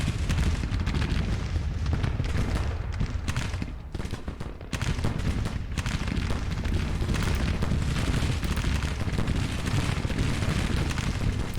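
Massed volleys from several Civil War infantry brigades in a Grand Tactician battle, a dense continuous roar of rifle fire with booming reports that briefly thins near the middle before resuming at full loudness.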